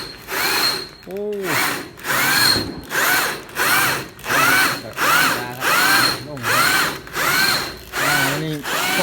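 A power drill bores in repeated bursts of about a second each, loud and close in a warehouse workshop where a sound-system vehicle is being built, with short pauses between bursts.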